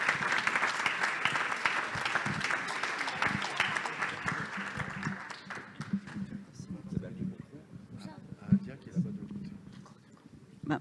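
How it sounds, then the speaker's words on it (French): An audience at an evening awards ceremony for digital trophies applauds loudly and then tapers off over several seconds; a voice follows briefly as the clapping fades. "Sous vos applaudissements."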